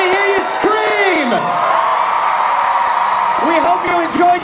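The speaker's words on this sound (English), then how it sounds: "If you love Harry Potter, let me hear you scream!" A large crowd screams and cheers at a Harry Potter celebration at Universal Orlando Resort, a loud sustained roar of yells and whoops with an amplified voice shouting over the start and end.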